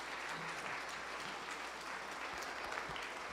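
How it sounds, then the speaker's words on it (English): Church congregation applauding the church band, a continuous, even wash of many hands clapping, heard from some distance and fairly quiet. "Let's give a rounding applause to our New Jersey Family Church Band."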